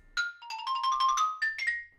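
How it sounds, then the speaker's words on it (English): Xylophone played as a demonstration of concert percussion: a quick run of bright, ringing wooden bar notes struck in succession, close and clear, with no talk over it. "xylophone,"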